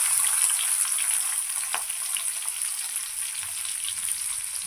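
Chopped onions with a pinch of cumin and green chilies fry in hot oil, giving off a steady, dense sizzle with faint crackles, close and even throughout.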